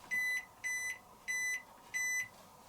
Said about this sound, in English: end beep which has a slight tone to it